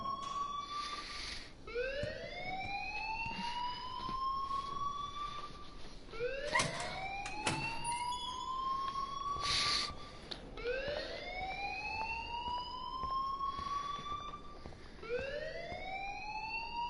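Electronic alarm in the game Life is Strange wails in repeated rising sweeps, each climbing then cutting off before the next starts, steady and insistent across the whole stretch with some faint clicks and noises mixed in.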